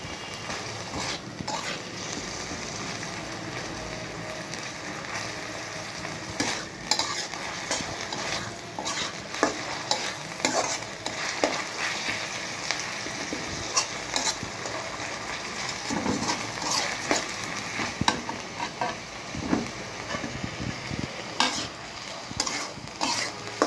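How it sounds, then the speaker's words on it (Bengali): Potatoes cooking with egg and onions in a frying pan: repeated scraping and stirring strokes of a spatula against the pan over a continuous low sizzle, irregular and fairly close, without speech. "এভাবে ডিমের সাথে আস্তে আলু রান্না করলে খুবই মজা হয়।"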